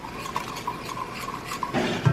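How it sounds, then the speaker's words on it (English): A spoon stirs a gravy packet into one cup of cold water, making soft, rhythmic clinks and scrapes against the dish. A louder splashy clatter comes near the end. "I'm just going to mix that gravy"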